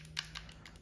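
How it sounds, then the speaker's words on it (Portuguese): Crisp clicks from the mechanical action button on a Mobapad M9 game controller, a few quiet taps spread over under a second, heard close and alone against a faint background hum. "Botão de ação, olha esse clique."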